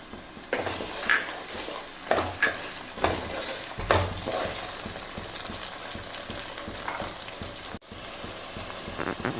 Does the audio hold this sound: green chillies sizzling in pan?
yes